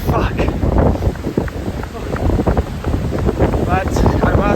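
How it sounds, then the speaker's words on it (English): Strong gusting wind buffets the microphone in a loud, continuous rumble during a marathon run, with a voice faintly audible beneath it. "Just windy as fuck."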